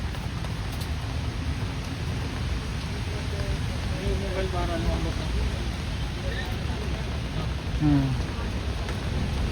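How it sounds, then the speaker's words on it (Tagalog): Steady heavy rain pouring down at Dolomite Beach in a constant broadband hiss, with some faint voices in the background. "bumuhos na naman yung malakas na ulan"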